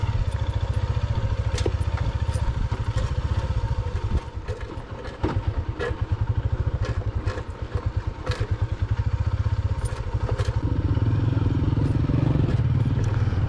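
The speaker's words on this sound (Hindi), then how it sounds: "बहुत ही ज़्यादा जो है ना ख़तरनाक किस्म का ये रोड है, जिसके ऊपर मोटरसाइकिल बहुत ही ज़्यादा स्ट्रगल कर रहा है नीचे उतरने में" A motorcycle engine chugs and labours at low speed while descending a dangerous, rough mountain road between Badgoi Pass and Thal in Kohistan, its close, steady idle-like thrum broken by clattering knocks and bumps.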